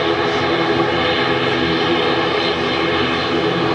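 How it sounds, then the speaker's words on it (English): An Eastern Airways ATR 72 turboprop roars steadily and loudly close by at Manchester Airport, its engine drone and propeller hum holding constant without a break. "Eastern Airways ATR 72."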